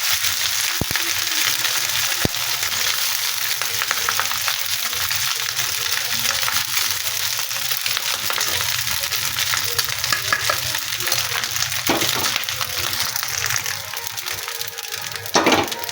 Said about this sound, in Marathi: आता आपण तुपामध्ये त्याला परतून घेऊया